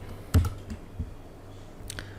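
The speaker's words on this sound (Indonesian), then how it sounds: "kita bisa menggunakan menekan di keyboard Ctrl J" A few sharp keystrokes on a computer keyboard during a Microsoft Word tutorial, with one loud click and several lighter taps spread out over a quiet background hum.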